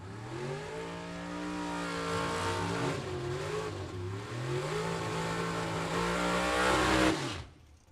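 Drag racing cars at a dragway roar past side by side, loud engine tones rising and sweeping through gear changes for several seconds before cutting off abruptly.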